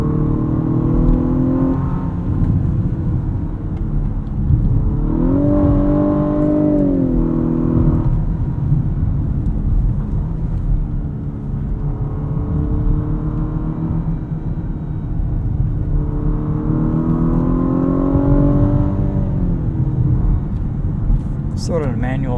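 A 2018 Lexus LS 500 F Sport, rear-wheel drive, revs toward the redline from inside the cabin. The engine drone rises and falls in two climbing sweeps over a constant road rumble, with someone talking throughout.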